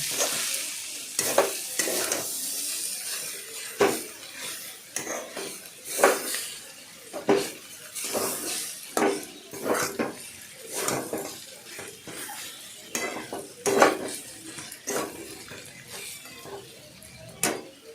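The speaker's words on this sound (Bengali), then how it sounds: "সিদ্ধ করা চাউমিনগুলো। দিয়ে ভালো করে নাড়াচাড়া করলাম।" Boiled noodles for vegetable chow mein are stirred and tossed in a hot pan, with repeated scraping strokes and clinks over a soft, continuous sizzle.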